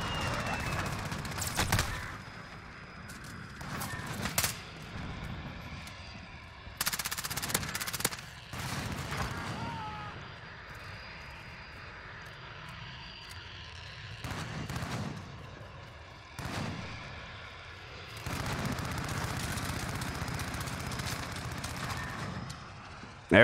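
Heavy gunfire from a VTOL aircraft killstreak in Call of Duty: Modern Warfare Search and Destroy, with loud repeated bursts separated by quieter stretches of distant shooting.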